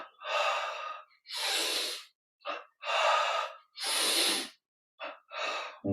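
Double-inhale breathing during a guided yoga and meditation exercise: close, airy sniffs and gasps, several paired quick breaths separated by short silences, with no speech over them.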